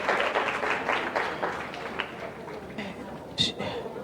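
Audience applause fills a hall after a talk with Phylicia Rashad, a steady wash of clapping that rises and fades, with a voice speaking over it and a sharp louder burst near the end.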